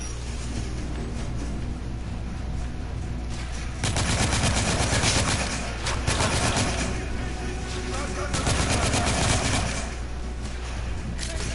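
Sustained machine-gun suppressing fire in the video game The Order: 1886, dense rattling bursts that grow louder partway through, with a voice talking over the shooting.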